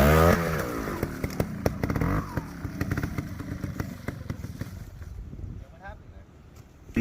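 A trials motorcycle climbs an obstacle, its engine rasping in short, uneven bursts as the rear wheel briefly spins on top, with wind noise and voices mixed in.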